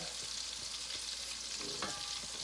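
Frozen food sizzles steadily in a hot pan as it is stirred, a constant bright frying hiss with occasional soft scraping and clicks from the utensil.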